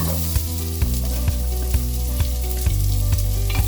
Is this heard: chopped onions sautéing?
yes